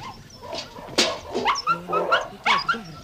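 Dogs bark and yip nearby in short, irregular bursts mixed with whimpering, loud and close outdoors by a lake with a boat, with no talk over them.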